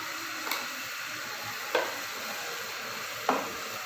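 Spices fry in a pan for an aloo baingan dish, a soft continuous sizzle with three sharp stir or scrape strokes spaced about a second apart, close but quiet.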